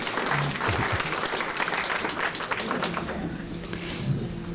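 An audience at a Southern Alberta Council on Public Affairs talk breaks into applause. The clapping is continuous and fairly close, with a few low murmurs underneath.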